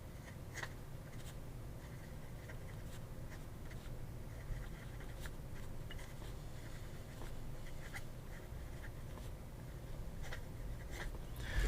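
A Fusion Delta stub nib fountain pen writes by hand on paper, faint scratchy strokes and small taps in short bursts over a quiet low room hum, no talking.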